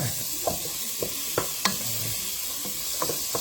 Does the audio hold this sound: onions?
yes